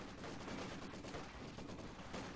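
A Maxim machine gun fires in the Company of Heroes 2 video game, a dense, continuous crackle of rapid gunfire that fills the short clip at moderate volume.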